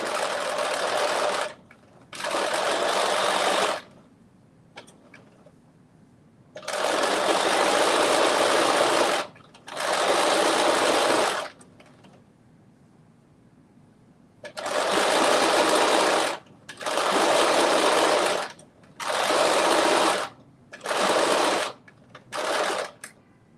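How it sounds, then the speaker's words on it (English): A sewing machine stitches fabric in repeated bursts of steady whirring, each run lasting one to three seconds, separated by short quiet gaps; loud and close, with no talking. "I just want to stitch this again"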